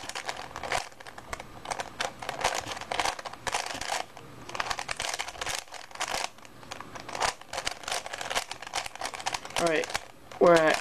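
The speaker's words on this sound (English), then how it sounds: "I'll just solve this cube shape" Twisty puzzle of the Rubik's cube type, a barrel-cut Prisma, turned rapidly while being solved, giving dense bursts of plastic clicking and clacking, with talk in the background and a brief higher tone near the end.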